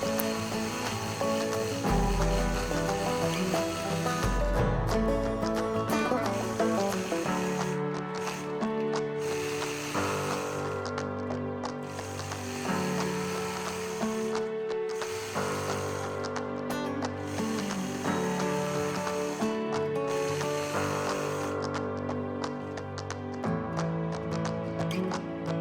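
A sewing machine running steadily through free-motion quilting of a pebble pattern, a continuous mechanical whir with a fast needle rhythm, close and even, with brief pauses and changes in speed, no talking.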